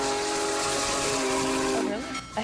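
The Big Boy steam locomotive, the world's largest operating steam engine, lets out a loud, sustained whistle over a broad roar of hissing steam, which drops away near the end of the short burst.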